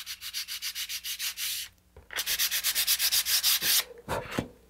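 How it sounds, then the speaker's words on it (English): Sanding paper scrubbed back and forth over small fin parts of an Apogee Nike Hercules model rocket to remove tabs, a close, loud run of quick regular rasping strokes, a short pause, then another steady burst of strokes. "let's sand these down to take off those tabs"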